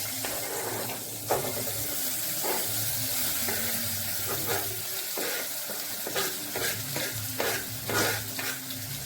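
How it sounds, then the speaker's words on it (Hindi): Dried red chillies and chopped onion frying in oil, a steady close sizzle with repeated scraping and stirring strokes throughout. "उसको थोड़ा देर ब्राउन होने के लिए तेल में फ्राई करेंगे।"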